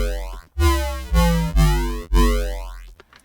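Square-wave synth bass in FL Studio run through an octocomb phase effect, giving a series of loud, hollow, vocal-sounding notes with sweeping comb-filtered overtones, separated by short gaps, then trailing off.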